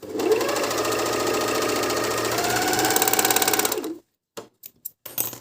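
A SilverCrest 90 A1 overlock sewing machine stitching fabric, a loud, fast, steady mechanical whir for about four seconds, then stopping, followed by a few short bursts as the machine is run in brief spurts.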